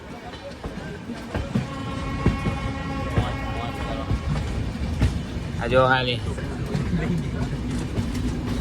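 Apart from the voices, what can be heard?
moving passenger train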